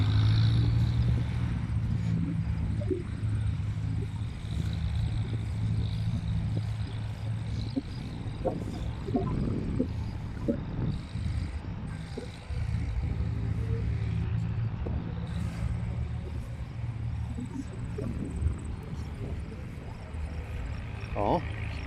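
A vintage wide-front Massey 30 tractor engine rumbles steadily at a steam show, a low running drone beneath nearby people talking.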